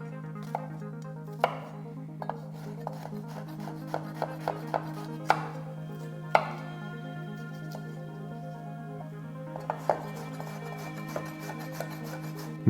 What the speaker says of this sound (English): Three pieces of garlic, finely chopped.